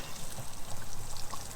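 Water runs from a garden hose into a tube at a motorhome service point, a continuous splashing pour with steady hiss, fairly close and alone.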